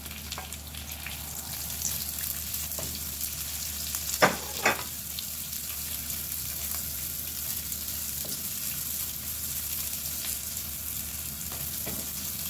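Onions frying in a pan for ginisang pechay with sardines, a steady close sizzle with a few sharper pops and stirring clinks, no voices.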